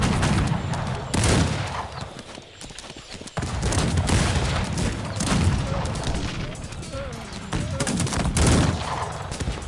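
Cannon fire booms repeatedly amid the clatter of battle and gunfire in the game Cossacks 3, during an assault on a Turkish fortress, loud and dense, with a voice speaking over parts of it.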